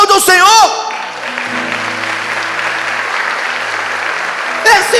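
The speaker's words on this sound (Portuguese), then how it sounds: "Aplauda o Senhor" A congregation at a Portuguese-language church service applauds the Lord. The steady, full clapping runs for several seconds, with a voice carrying over it, and is framed by brief speech at the start and end.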